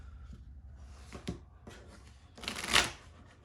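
Cards for a pro wrestling promoter card game are shuffled in a few quick, soft riffles close by, the last burst loudest, with no voices.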